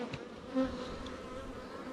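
Honey bees buzz around an open hive during an inspection, a close, steady drone of many wings with one bee passing briefly nearer.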